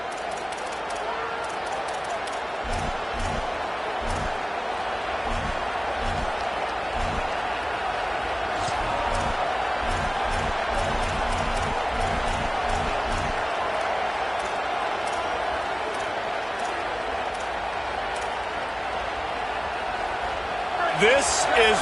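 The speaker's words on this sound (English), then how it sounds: "This crowd ready to make its presence known" Stadium crowd at a Clemson football game, a steady loud roar filling the background from start to end while a commentator talks over it.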